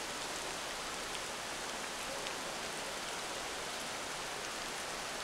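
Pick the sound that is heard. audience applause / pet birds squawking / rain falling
rain falling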